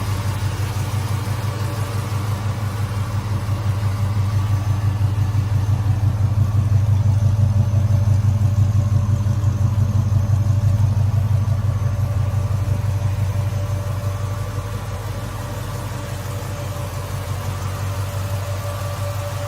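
A 1968 Coronet 440's 6.1 Hemi V8 idles with a deep, steady rumble, loping evenly without revving, close and loud throughout.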